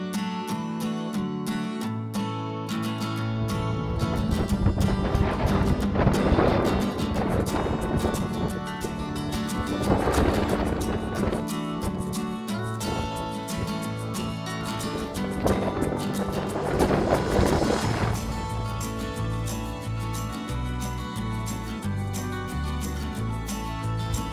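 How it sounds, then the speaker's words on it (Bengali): A boat's engine on the sea near Vrångö island in Sweden drones steadily under heavy wind buffeting the microphone, with surges of water and wind noise rising and falling through the scene. "দেখুন দূর দিয়ে ওই যে বোট যাচ্ছে, আমরা ওই বোটটাই ধরবো"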